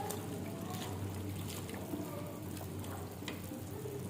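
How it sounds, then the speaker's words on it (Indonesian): Chicken soup with cabbage and spring onion is stirred in a pot, giving a soft, steady bubbling and sloshing with faint occasional scrapes. It plays quietly and continuously throughout. "Kita aduk dulu."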